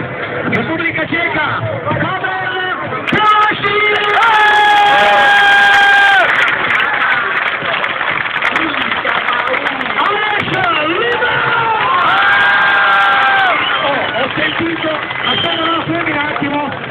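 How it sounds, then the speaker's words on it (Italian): A crowd at a motor show freestyle event in Grottaminarda cheers loudly and steadily, with high-pitched screams rising above the roar in two swells; an amplified voice may carry through the din. "Ripeto il nome Alex Lima perché ho sentito solo urlo di donne, Alex."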